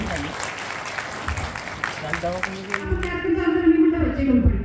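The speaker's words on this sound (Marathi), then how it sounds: "एकदा श्याम सेल साठी जोरदार टाळ्या वाजवा" An audience claps at a Diwali lucky-draw coupon event, applause swelling into a loud, dense burst over a busy crowd, with a voice speaking over it near the start.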